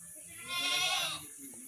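Young goat kids in a farm pen give a short, quiet, wavering bleat in the middle of a low ambient background, with no one speaking.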